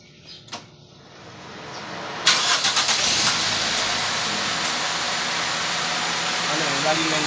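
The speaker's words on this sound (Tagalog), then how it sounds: "paandarin mo muna" A Toyota 4A-FE engine in a GLI car cranks briefly, then catches and settles into a steady, loud idle that runs on without a break. People talk nearby under the engine noise.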